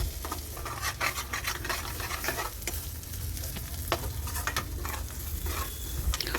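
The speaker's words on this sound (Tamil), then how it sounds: "நல்லா கிண்டி விடுங்க." Egg and onion for egg podimas fry in a pan while being stirred, a close, dense sizzle broken by rapid scraping strokes of the spatula throughout.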